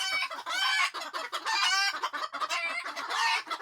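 Many roosters, at least ten in a chicken coop, crow and cluck loudly and close by in overlapping bursts with no pauses, the harsh calls layering over one another throughout.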